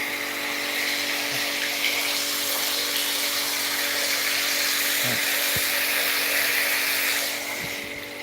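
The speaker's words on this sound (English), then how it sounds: "Right now I'm pumping water into it from the tank in the back of my truck" Water pumped from a tank in the back of a truck pours steadily into a stone-filled sediment catch bowl on a homestead, a constant close rushing hiss with a faint pump whine that holds throughout and eases at the end.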